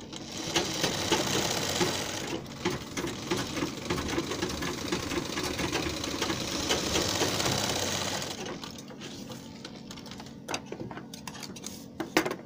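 A sewing machine stitches kurti and palazzo pant fabric, running fast and continuously for about eight seconds. It then stops, leaving scattered clicks and handling noises.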